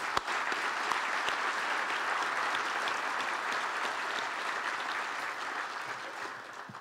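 An audience breaks into sustained applause for supervisors at a community gathering, a steady wash of clapping from a moderately sized crowd heard from a little distance, fading slightly toward the end.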